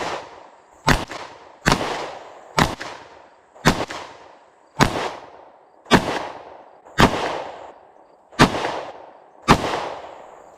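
Ten sharp pistol shots from a Glock 43X fired at a target 40 yards away, spaced about a second apart, each loud crack followed by a short ringing decay, with no talking.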